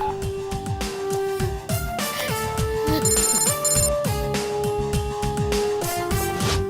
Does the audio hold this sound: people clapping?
no